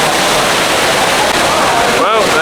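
A waterfall roars as dense, steady broadband rushing water, loud and constant, with a brief voice near the end.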